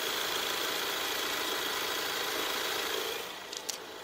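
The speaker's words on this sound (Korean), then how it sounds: "엔진 소음 먼저 들려드리면은" A Ford Explorer 2.3 AWD petrol engine idles with a steady, even hum and hiss from close by, then drops slightly quieter near the end.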